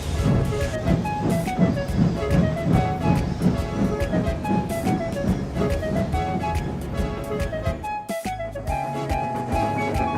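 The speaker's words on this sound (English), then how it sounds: "James watched the train disappear around the curve." A rumbling steam train departs, chugging along with rhythmic rattling and hiss, loud and continuous, accompanied by music, then an abrupt shift near the end.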